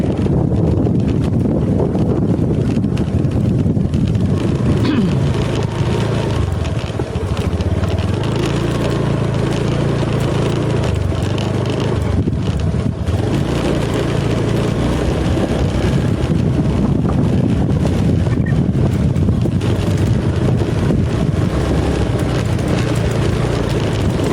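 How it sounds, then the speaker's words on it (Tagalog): Strong wind at a campsite by a limestone cave buffets the microphone with a loud, continuous roar and low gusting rumble, with no talk. "Nalakas ng hangin na yan eh."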